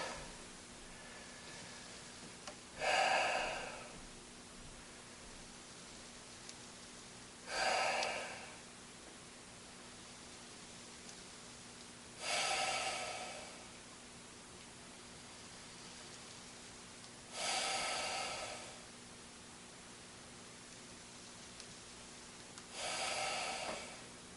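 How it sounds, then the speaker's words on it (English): Deep, slow breaths from a person lying on ice with hands under the belly come as five evenly spaced, close, airy exhalations about five seconds apart, with quiet pauses between them. "I do like putting my hands under my belly and breathing deep."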